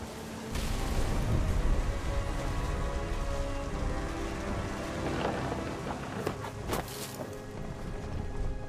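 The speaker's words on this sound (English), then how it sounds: "The thunder sounded much too close and full of angry power." Steady heavy rain with rumbles of close, powerful thunder in the game What Remains of Edith Finch, a dense wash of downpour with a few sharp cracks near the end.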